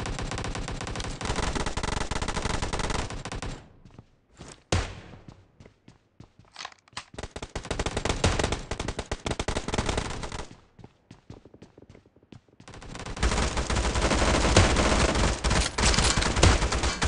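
Machine gun fire in PUBG Mobile arena mode, long loud automatic bursts broken by two quieter gaps with scattered shots and footsteps, then a heavy final burst.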